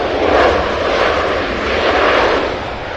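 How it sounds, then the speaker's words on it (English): A Boeing 737-800 arriving from Charlotte at Cincinnati's CVG airport passes close and loud, a broad jet rush that swells and eases slightly over a few seconds, with no talk. "It's the Boeing 737-800 coming from Charlotte."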